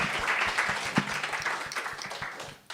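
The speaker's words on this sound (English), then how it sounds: "Let's give her a round of applause." An audience at a Bitcoin summit claps in a sustained round of applause, dense and fairly loud, fading toward the end with a faint voice underneath.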